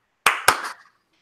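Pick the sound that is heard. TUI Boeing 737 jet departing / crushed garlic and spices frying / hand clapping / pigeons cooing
hand clapping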